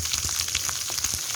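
Masala bhindi, sliced okra, fries in oil over a low-medium flame with a steady, close sizzle and faint crackling pops throughout, with no talking.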